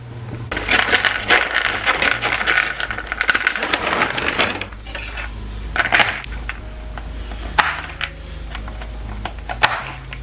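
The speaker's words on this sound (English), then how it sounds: "So a cup of rolled oats into a mixing bowl." A cup of dry rolled oats pours into a mixing bowl for granola, a close, rattling patter of flakes in several bursts with short pauses between.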